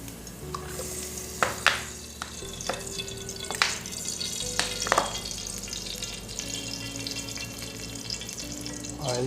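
Oil and onions frying in a cooking pot for a green chicken dish, a steady low sizzle with intermittent sharp clinks and scrapes of stirring, no talk.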